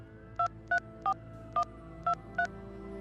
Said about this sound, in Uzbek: Bu noma'lum amaki qo'liga telefonni olib kimdirga qo'ng'iroq qildi.